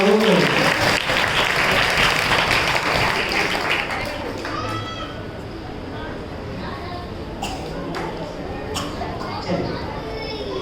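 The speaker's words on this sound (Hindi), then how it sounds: "अरे तालियां तो बजा दो।" Loud, dense crowd applause at a staged drama performance about Sati Mainasundari, sustained and even at first, then easing to lighter scattered clapping with children's voices mixed in.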